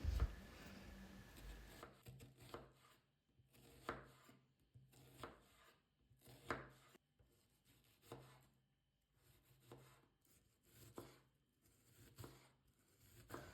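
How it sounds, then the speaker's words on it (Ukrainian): A knife finely chops an onion on a cutting board, a steady series of close, crisp strokes with brief pauses between bursts. "я беру одну цибулину та нарізаю дрібненько"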